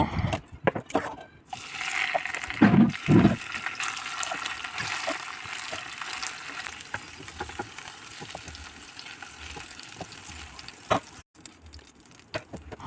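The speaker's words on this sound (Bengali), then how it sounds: "এবার বাকি ঢ্যাঁড়সগুলো ভেজে নেব" Okra frying in hot oil for a vegetarian dish, a steady broadband sizzle throughout with a few louder bursts near the start as pieces settle into the pan, no voices.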